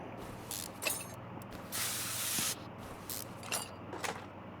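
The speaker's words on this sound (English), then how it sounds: "So spray with the stuff in the blue can." A spray can in the Car Mechanic Simulator 2021 video game lets out one sustained hiss of under a second, set among short clicks and faint background noise.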